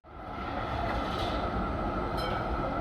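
A Yarra Trams W8 class heritage tram rides through Melbourne, a steady loud rumble of rolling wheels and car noise heard from on board, with a brief faint squeal near the end.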